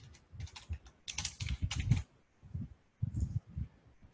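Bursts of typing on a computer keyboard, quick clusters of close key taps separated by short pauses while entering job details into desktop software.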